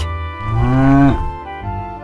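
A cow named in a Jack and the Beanstalk fairytale lets out one loud, close moo that rises and falls in pitch over about a second, with a low rumble trailing off afterward.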